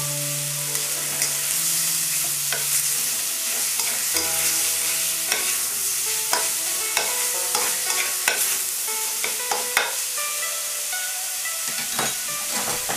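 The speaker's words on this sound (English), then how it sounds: "we're going to mix the flavors of the garlic into the pork" Ground pork and a tablespoon of garlic stir-fry in a pan for ma po tofu. A close, continuous sizzle runs under repeated scraping stirs of the spatula, with no voices.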